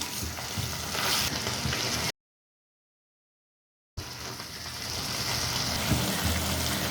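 Ivy gourd with soaked cashews and fresh grated coconut fries in a pan, a steady close sizzle broken by stirring, with a sudden gap of total silence in the middle before the frying resumes.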